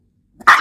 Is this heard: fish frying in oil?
no